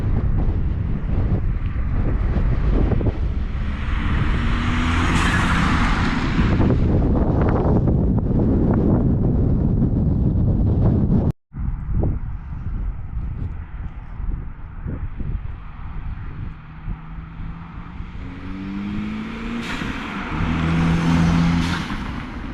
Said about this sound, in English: you guys will get to hear the car again,